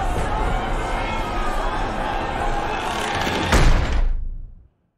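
A door shuts with a single thud in a scene from the film Nightbooks, landing late over a busy, dense soundtrack of music and ambience that then cuts off abruptly.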